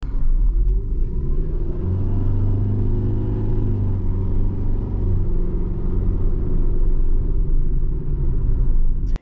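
Engine drone from a 2020 Toyota Fielder wagon with an eCVT while accelerating: a steady, loud low rumble holding a constant pitch rather than rising through gears, heard from inside the car with no talking.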